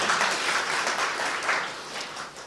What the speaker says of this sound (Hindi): ताली बजाइए इनके लिए।